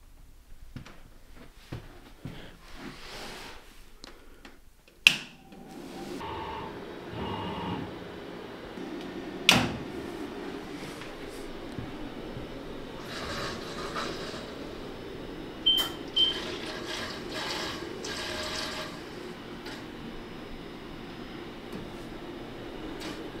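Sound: Thunder CO2 laser chiller cycling antifreeze through the laser

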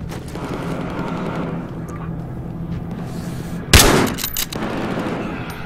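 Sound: gunfire in video game Battlefield Hardline

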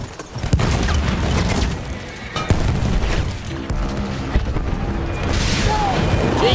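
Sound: grenade explosion in video game Battlefield 1

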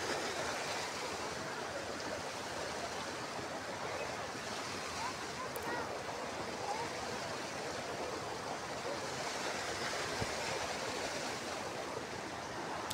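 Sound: Shaliganga river water flowing at Doodhpathri

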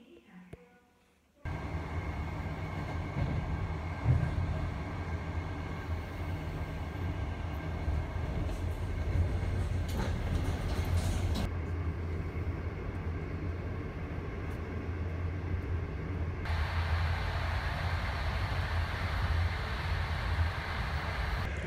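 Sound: train ride inside China

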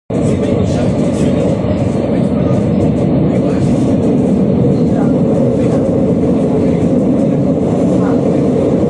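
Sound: riding a metro train

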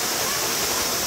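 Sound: waterfall

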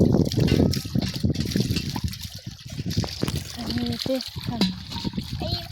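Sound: water poured while washing hands and a water pot

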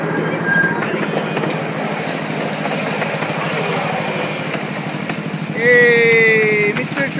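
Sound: train passing on rails

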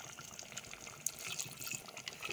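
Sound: pouring water into cooking pot

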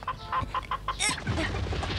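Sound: chicken clucking in a cartoon

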